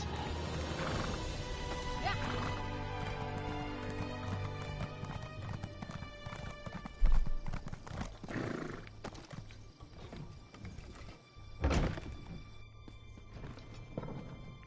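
Horse hooves clip-clopping in the video game Elder Scrolls Online, a steady rhythmic trot with a whinny and a louder thud midway, set over game ambience.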